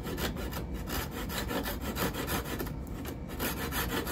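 Handsaw cutting through a clamped wooden doweling pin, steady back-and-forth rasping strokes in an even rhythm, close and fairly loud, no talking.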